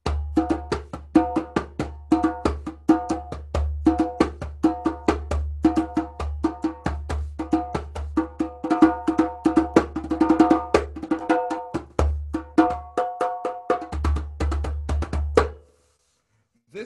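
A loud djembe drum is played close up in a fast, dense pattern of sharp slaps and deep booming bass tones for about fifteen seconds, then stops abruptly into silence.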